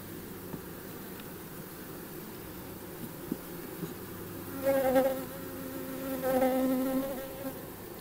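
Honeybees hum steadily inside an open beehive, a faint continuous drone with two brief louder swells as individual bees buzz close past.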